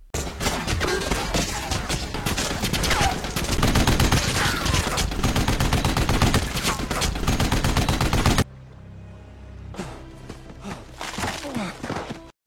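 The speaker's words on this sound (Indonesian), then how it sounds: "Wolf kemudian mencoba menembak Atami dari jauh" Rapid gunfire from a film scene, dense bursts of shots and automatic fire for several seconds, then a sudden drop to quieter scattered sounds with a few fainter shots.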